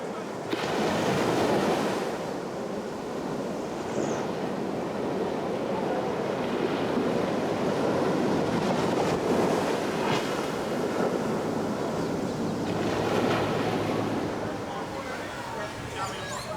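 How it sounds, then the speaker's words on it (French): Ocean waves roll and break steadily on a white-sand Caribbean beach near Paynes Bay, Barbados, a loud, continuous surf wash with wind buffeting the microphone and no speech over it. "où s'enroulent également quelques belles vagues."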